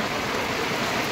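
Steady, dense rain pours down without a break, a continuous broadband hiss of drops hitting surfaces, fairly close and even throughout.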